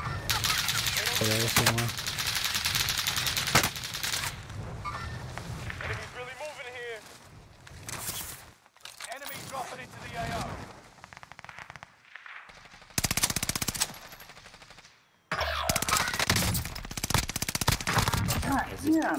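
Call of Duty Warzone battle-royale gunfire: repeated machine-gun bursts and single shots, loud and close, broken by brief quiet gaps, with a player talking over the action.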